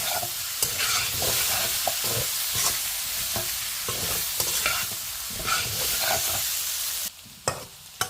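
A spoon stirs a tomato-based vegetarian curry frying in a pan, scraping strokes repeating over a steady close sizzle, with a few sharper clinks near the end.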